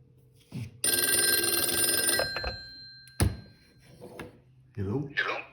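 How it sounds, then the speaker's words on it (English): Antique landline telephone with a mechanical bell rings in a long, loud metallic burst, then a short clunk, a second brief ring begins, and a voice speaks at the end. "I love the sound. I'll let it ring a couple of times."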